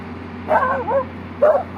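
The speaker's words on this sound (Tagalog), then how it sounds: "May aso dito." A dog gives two short yipping barks, close by, with a brief pause between them over a low hum.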